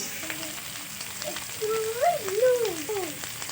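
Ginger spice paste frying in a pan gives a low, steady sizzle, while a voice with rising and falling pitch talks over it through the second half.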